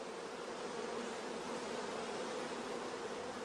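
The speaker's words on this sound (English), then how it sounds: "in the queenless starter colony, we can hear the loud buzzing of the orphan bees" Orphan bees in a queenless starter colony buzz loudly and steadily, a dense, unbroken hum with no voices.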